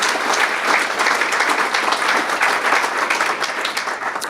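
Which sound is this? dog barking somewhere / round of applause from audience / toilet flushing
round of applause from audience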